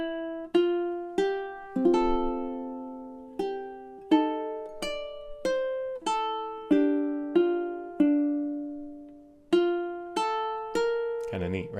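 Ukulele picking a simple melody over two measures plus a pickup bar, clear individual plucked notes with ringing decay, played close and alone at a relaxed pace.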